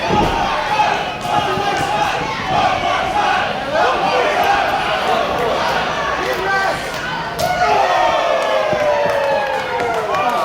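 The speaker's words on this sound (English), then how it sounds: "The crowd asking for one more chop, and Watson delivering." A wrestling crowd chants rhythmically for one more chop during a match, a loud, sustained roar with a sharp slap of a chop landing partway through and talk layered over the top.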